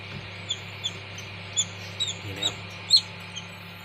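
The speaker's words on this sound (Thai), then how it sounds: "ร้องเจ็บเจี๊ยบเลยครับ" Several faint, high chirps from baby chicks inside an egg incubator come at irregular intervals over the steady low hum of the incubator fan, with a soft voice faintly in the background.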